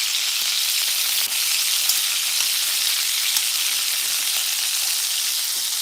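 Shrimp fry and brown in a hot pan for shrimp fried rice, giving a steady, close, bright sizzle with faint crackles and no talking.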